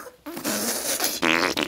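A loud, close fart in two raspy bursts, a longer buzzing one followed after a short break by a sharper, brighter blast, with no talking.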